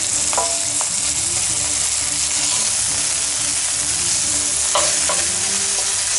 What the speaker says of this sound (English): Saute that for about a minute